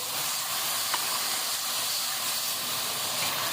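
Sliced onions and spices fry over high heat in a pan, giving a steady, close, even sizzling hiss with no talking.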